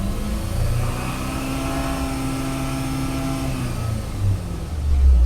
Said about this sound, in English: So let me just raise the RPM and see.